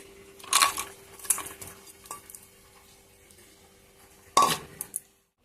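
Cashews, raisins and paneer go into a pot of vegetable dal, heard as a few sharp clinks and scrapes of a spoon against the metal pot, spaced apart with quiet between them.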